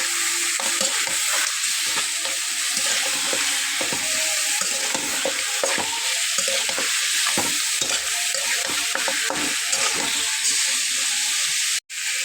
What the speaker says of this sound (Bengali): শুকনো মরিচের গুঁড়া। এটাকে ভালোভাবে কষিয়ে নেব।